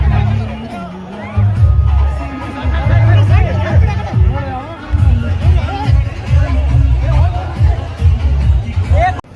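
A large crowd gathered at a Puneeth Rajkumar event in Gokak, Karnataka, fills the air with loud, dense babble and overlapping voices, a close continuous hubbub with occasional louder calls.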